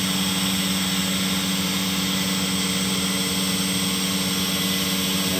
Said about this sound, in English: It ramps up to 1500 RPMs, running at 50 inches a minute right now.